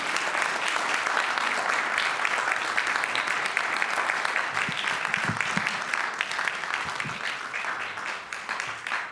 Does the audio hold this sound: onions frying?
no